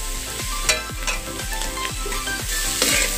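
Carrots and cabbage stir-frying for vegetable fried rice, a close, constant sizzle broken by rhythmic scraping strokes of a spatula about every half second, with no voices.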